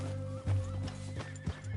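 A horse in the video game Red Dead Redemption 2 snorts and whinnies over a steady low hum, with a few soft hoof clops in a short, quiet moment and no talk.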